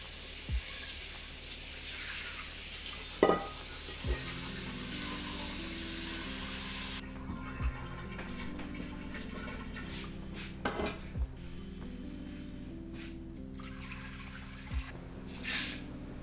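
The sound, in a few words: washing up a pot with running water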